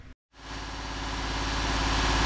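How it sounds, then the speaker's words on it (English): A car engine runs at about 2000 RPM during a Sea Foam carbon-cleaning treatment on a vehicle with a misfire fault, rising from a brief silence into a steady, droning hum. "keep the revs at about 2000 RPM"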